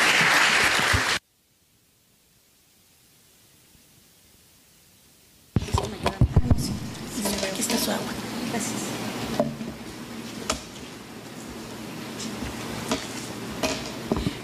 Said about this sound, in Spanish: vamos a dar un merecido aplauso a la maestra Roselia Bustillo Marín